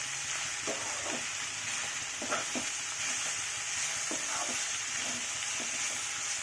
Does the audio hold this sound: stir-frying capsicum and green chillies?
yes